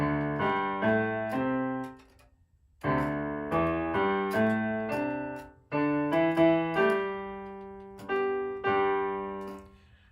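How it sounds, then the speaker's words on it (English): Recorded orchestral passage from Tchaikovsky's Fifth or Vaughan Williams' Second, with sustained full chords broken by two short gaps, heard alone at moderate loudness; a cymbal clash isn't clearly distinct. "you know, it's got a cymbal clash and it sounds crazy."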